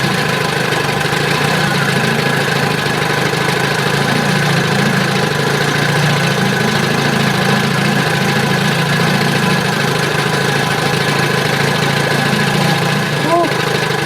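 A 1971 20 hp Johnson outboard motor idles low and steady on a boat, its continuous engine drone holding even throughout at close range, with no talk over it.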